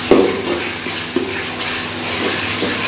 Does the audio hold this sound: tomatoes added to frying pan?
yes